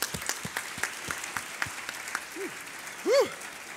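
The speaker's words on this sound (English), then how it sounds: "Give yourselves a round of applause." An audience at a book awards ceremony gives scattered, fairly faint applause, individual claps spaced out, with a brief voiced sound and a whoop near the end.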